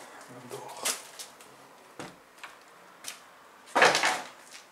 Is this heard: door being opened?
yes